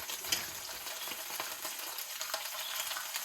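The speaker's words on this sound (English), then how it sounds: "How I fry my moose meat." Moose meat fries in a pan with a steady, close hiss and crackle, a few faint scrapes and taps breaking through the continuous sizzle.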